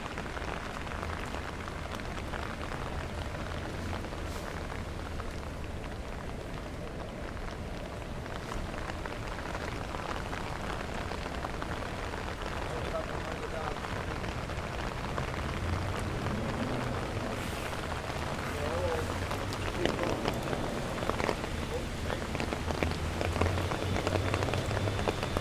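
Steady rain falls in Manhattan during Tropical Storm Henri, a dense continuous patter on surfaces that lasts throughout, fairly soft and even, with no voices.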